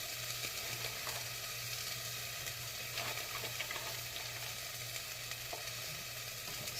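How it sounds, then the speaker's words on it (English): Cabbage stir-fries in a hot pan, a steady, fairly quiet sizzle with occasional scraping and stirring clatter, and no talking. "Quick stir fry this a little bit. This cabbage."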